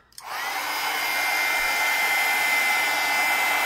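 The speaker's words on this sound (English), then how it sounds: "as it burns, you move the heat tool so it can continue to burn evenly" A heat tool switches on and blows steadily, a loud continuous whirring rush used to burn the edges of paper for a mixed media junk journal, alone with no talk.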